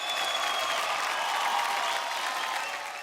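Studio audience applauding for a performer on a Marathi TV show, a dense, steady burst of clapping that fades slightly at the end, with no talking over it.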